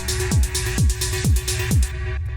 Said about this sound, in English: those two sounds just kind of, you know, play together and give us that dark metallic ambience.